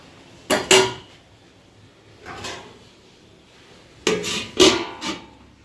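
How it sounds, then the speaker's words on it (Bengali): A lid is set on a cooking pot where taro stolons simmer in a little salted water, giving sharp clattering knocks in a few separate clusters, close and fairly loud, with quieter handling in between. "এবার একটা ঢাকা দিয়ে দেবো।"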